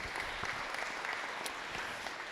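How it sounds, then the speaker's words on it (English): Steady, dense applause from a meeting audience at a city commission session fills the whole stretch, even and sustained, with no break or voices on top. "Give her a round of applause."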